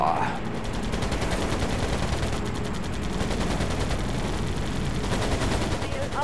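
Enemy planes strafe with machine-gun fire in the Pacific air combat game Air Conflicts Pacific Carriers, a steady rattling burst running continuously over loud engine drone.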